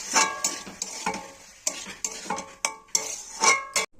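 Cauliflower sautéed in a pan with ginger-cumin paste and tomato paste, a utensil scraping and clattering against the pan in a quick run of sharp strokes over a light sizzle, with brief pauses between bursts.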